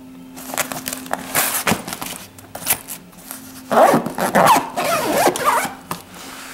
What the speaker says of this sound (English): then we can zip up the pocket in the canvas